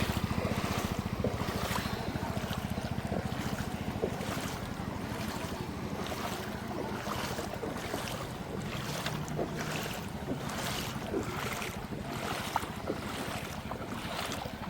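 A motorbike engine drones steadily as it pushes through floodwater after sudden heavy rain in Jaffna, with continuous splashing and rushing noise throughout and no pause.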